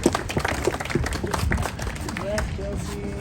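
Audience clapping at a graduation ceremony at Aurora College in Yellowknife, a burst of applause from the crowd with voices and chatter mixed in, fading toward the end.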